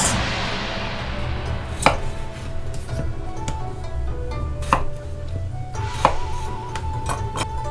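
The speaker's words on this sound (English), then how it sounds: "I'm going to cut those into kind of similar size pieces as the meat" Chunky pieces of potato and carrot being cut on a board for a venison Japanese curry stew, with sharp knife chops landing every second or so over a steady low kitchen hum, several louder thunks standing out.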